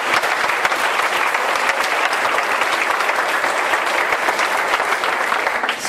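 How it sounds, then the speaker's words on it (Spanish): An audience at a round-table debate breaks into dense, sustained applause, many hands clapping close and loud for the full six seconds, easing only slightly at the end. "Yo creo que para empezar se puede aplaudir también"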